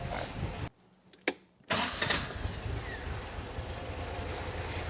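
A 1964 Triumph TR4 engine runs at idle during ignition tuning, a close, steady rumble broken by a brief cut-out and restart before settling back into an even, slightly uneven idle.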